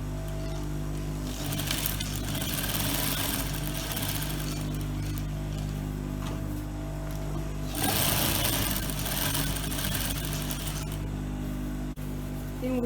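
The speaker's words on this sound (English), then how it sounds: "So I'm going to start sewing the notching down." Sewing machine stitching down the notching on a child's garment, a loud steady motor whir running continuously close by, with a short pause partway through.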